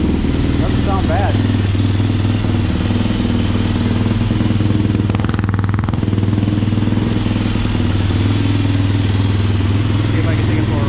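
A 2007 Yamaha YFZ450R ATV engine runs steadily close by, with a loud continuous rumbling drone and clattery texture that holds throughout, and a voice is heard briefly over it.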